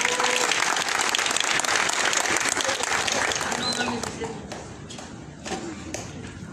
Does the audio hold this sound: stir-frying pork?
no